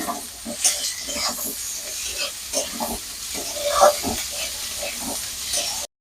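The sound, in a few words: chopped potatoes added to frying onions in pan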